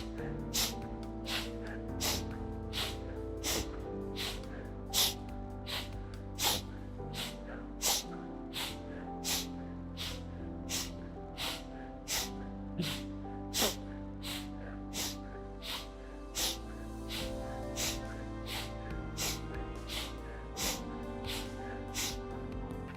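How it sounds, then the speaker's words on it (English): Loud, sharp nasal inhales from Strelnikova breathing exercises repeat in a steady, quick rhythm, about one and a half per second, sounding close and forceful above a low background hum. "It is normal that breathing is quite loud during the whole process."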